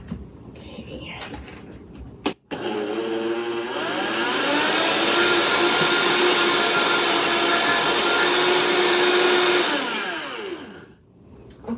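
A food processor grinds almonds for macarons in a long, loud, steady whirring roar that builds, holds for several seconds, then winds down, with a brief click and soft sounds before it starts.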